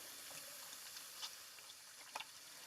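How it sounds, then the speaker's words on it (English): Tap water running in a kitchen while hands are rinsed after handling scallops, a steady quiet stream with a few brief splashes near the end. "Give the hands a quick wash."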